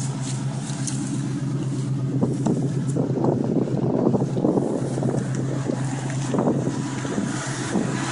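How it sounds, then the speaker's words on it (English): A radiator thermo fan runs on an AMC Hornet, a steady loud whirring drone with wind-like rush throughout, continuous and close with no talk. "Thermo fan's running."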